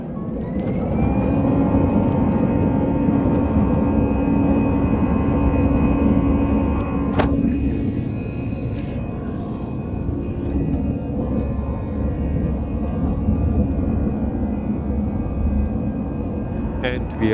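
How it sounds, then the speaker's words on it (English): Inside the cabin of an Air France regional airplane during takeoff, a loud steady engine roar and rumble with a rising whine, continuous throughout, with a brief chime partway through. "But now let's get airborne."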